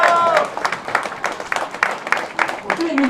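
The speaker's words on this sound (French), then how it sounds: "On dit l'applaudissement, mesdames et messieurs" A crowd applauds a podium at an enduro motorcycle event, steady close clapping throughout while an announcer talks over it.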